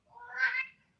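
A single cat meows once, a short rising and falling call close by during an indoor council meeting, heard alone without talk.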